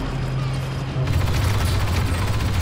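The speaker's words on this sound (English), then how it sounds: "Laying down covering fire." Blaster covering fire in Star Wars Battlefront 2 Galactic Assault, a dense stream of rapid energy shots over a continuous low battlefield rumble, intensifying after the first second, with no talk.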